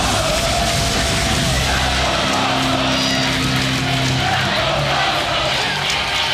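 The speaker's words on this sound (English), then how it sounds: "Raino able to get in there and listen to this crowd." A packed wrestling arena crowd roars and cheers after a no-rules match, a loud continuous wall of yelling and whooping that never lets up.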